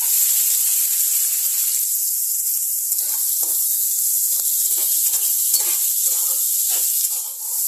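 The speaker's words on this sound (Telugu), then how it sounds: "ఫ్రై అయిన తర్వాత ఇందులో సన్నగా కట్ చేసుకున్న ఆనియన్స్ వేసుకోవాలి." Finely chopped onions frying in a pan for an egg masala curry, giving a steady hiss and sizzle with bursts of stirring and scraping that grow busier toward the end.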